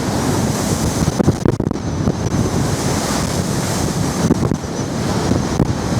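Loud rushing Great Lakes surf and swell heard from a rolling ship, with heavy wind buffeting the microphone, continuous and close, no voices.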